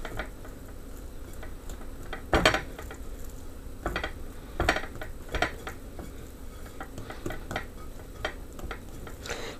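Bread dough mix being put into a greased bowl, with scattered knocks and scraping taps against the bowl, some louder thumps among softer ticks and rustles, with no talking.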